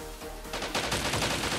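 A rapid, loud burst of machine gun fire from the shooter game Tập Kích starts after a brief lull and rattles densely to the end.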